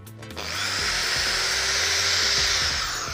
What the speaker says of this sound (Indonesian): Nah, kayu atau rotan ini kita cabut, kita bor ya teman-teman